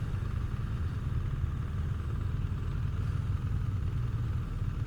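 BMW 1300GS Trophy Edition motorcycle engine pulls away in gear with a steady, low, rumbling drone. The loudness stays fairly even throughout, with no voices.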